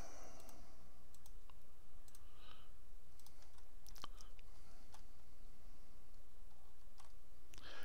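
Sharp, faint clicks of a mouse or keyboard, scattered irregularly over a low steady hum, heard while game key bindings are switched to the spacebar in The Division.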